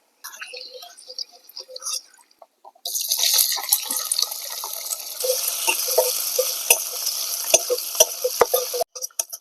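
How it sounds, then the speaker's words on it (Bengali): Onions and black cumin are tipped into a hot wok already used for frying fish. After a couple of quiet clattering moments, a loud, sustained sizzle takes over, broken by scraping stirs and small knocks. "এবারে ওই মাছ ভাজার কড়াইতেই আমি প্রথমে কালো জিরে নতুন ফোড়ন দিয়ে পেঁয়াজগুলো দিচ্ছি"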